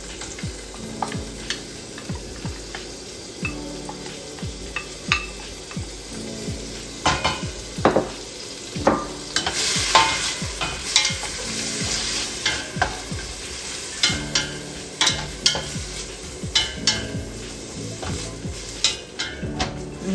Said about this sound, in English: We're gonna saute this for a little bit